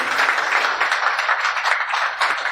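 A seated wedding audience claps steadily through a civil ceremony in honour of the groom's second witness, a dense, even wash of many hands that stays loud and unbroken from start to finish.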